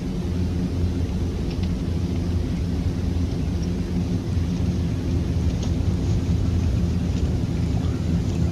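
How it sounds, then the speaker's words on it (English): A Fokker 50 turboprop airliner in the X-Plane 11 flight simulator takes off, a steady, loud, low engine roar and rumble that holds unbroken throughout. "let's get the aircraft in the air here."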